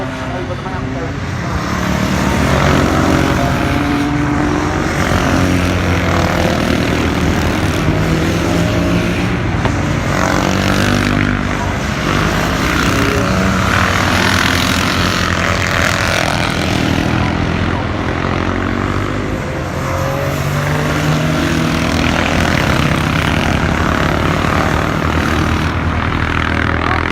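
Vintage racing motorcycles roar past on the first lap of a race at Cadwell Park, a dense, continuous engine drone of many machines rising and falling, loud throughout, with voices talking over it.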